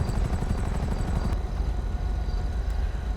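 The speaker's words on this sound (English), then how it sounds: "We can now hear a helicopter that is apparently nearby." A nearby helicopter in a roleplay video game, its rotor a steady dense low thumping that holds throughout at moderate loudness with no break.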